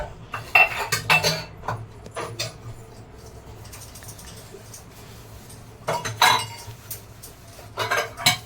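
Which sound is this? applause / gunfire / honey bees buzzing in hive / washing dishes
washing dishes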